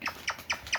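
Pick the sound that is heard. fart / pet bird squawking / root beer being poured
pet bird squawking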